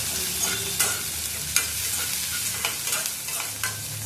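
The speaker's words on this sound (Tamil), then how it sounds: "நல்லா கிண்டி விட்டுக்கலாம்" Okra and green chillies frying in a pan as a spoon stirs them, sharp scraping strokes every half second or so over a continuous close sizzle, with no talking.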